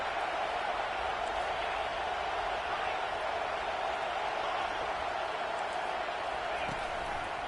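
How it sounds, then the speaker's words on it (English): A college football stadium crowd keeps up a steady, dense roar during a timeout, a constant wash of distant cheering and chatter with no break. "This crowd bringing the energy and noise early."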